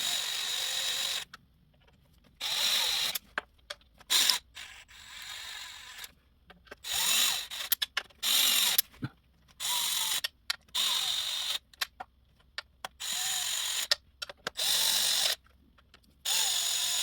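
Cordless power drill or impact driver on its lowest setting, running down transmission pan bolts on a 2005 Ford Focus: repeated short bursts of whirring, each a second or two long, separated by brief silences, close and fairly loud.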